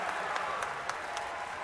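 A basketball crowd in a gym at an Oregon Tech men's game against Multnomah claps and cheers after a putback, a moderate, steady roar with a few sharper claps and faint voices mixed in.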